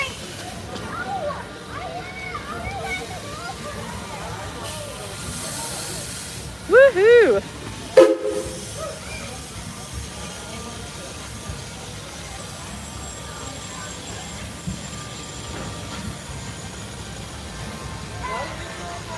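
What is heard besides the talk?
old steam train at Silver Dollar City theme park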